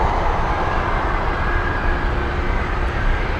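Heavy Boeing 747 jet taking off at Anchorage airport, heard as a steady, loud, broadband engine roar with a sustained rumble that holds constant throughout, no voices over it.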